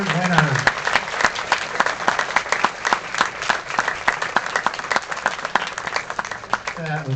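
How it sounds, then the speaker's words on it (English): An audience at a science and engineering fair claps for award winners, with sharp distinct hand claps in a brisk, uneven patter, fairly close and loud, and a voice heard briefly at the start and end. "one big, large round of applause for all of our specialty award winners"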